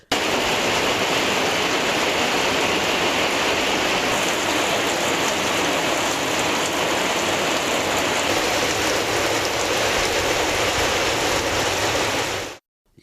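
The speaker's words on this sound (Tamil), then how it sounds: "இடியுடன் கூடிய கனமழை பெய்தது" Heavy rain pouring steadily in Tamil Nadu during a thunderstorm, a dense, loud, continuous hiss of water on surfaces with no break, cutting off abruptly at the end.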